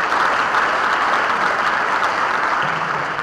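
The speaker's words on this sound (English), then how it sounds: "Let's give them another round of applause" A large audience at an Owasso State of Education event gives school board members a loud, sustained round of applause, with even, dense clapping filling the entire clip and no talking.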